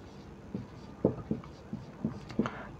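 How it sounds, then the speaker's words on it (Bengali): Marker or chalk strokes on a classroom board, about six short scratchy bursts spaced unevenly over a few seconds, close and fairly clear, no talking. "সেখানে বোর্ডে লিখছি"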